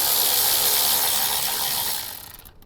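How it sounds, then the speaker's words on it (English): A 12mm socket on a ratchet wrench spins off the nut on a battery's positive terminal in a Toyota Tundra, a close, steady run of fast ratchet clicks that slows and fades near the end. "we're going to use a 12mm socket to remove the nut on top of the positive terminal"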